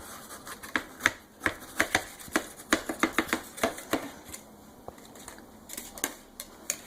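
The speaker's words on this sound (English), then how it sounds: "You just take a knife and go all the way around." Knife trimming the baked crust from a German chocolate pie: a quick series of small crisp cracks and crunchy snaps in an irregular rhythm, close up and fairly quiet against a faint room hum.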